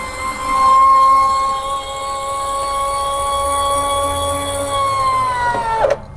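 An empty Harmar AL 500 electric vehicle lift platform for powerchairs flips up with a steady, fairly loud electric motor whine that holds for about five seconds and ends in a short mechanical clunk.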